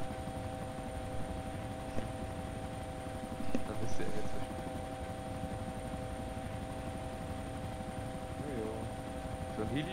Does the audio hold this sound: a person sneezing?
no